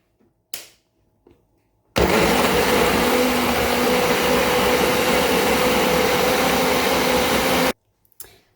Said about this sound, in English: So we're gonna blend it first